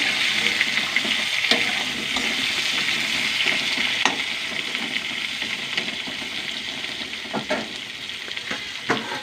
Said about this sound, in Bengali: আলুগুলো ভালো করে ভাজতে থাকবো।